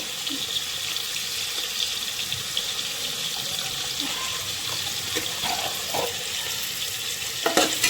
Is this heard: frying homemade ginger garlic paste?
yes